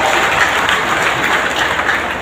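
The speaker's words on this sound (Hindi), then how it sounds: "जोरदार ताली से स्वागत करवाए" Steady, loud applause from a crowd at a political rally in Tosham, Haryana, welcoming a speaker on stage, sustained clapping with no voices over it.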